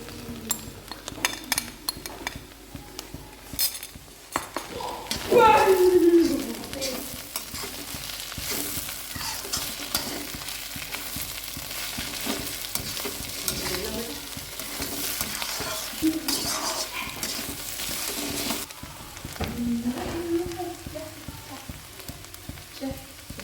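Khoa is mixed and stirred into gajrela in a pan, giving a continuous sizzle with repeated scraping strokes of a spoon and occasional clinks against the pan, steady and close throughout.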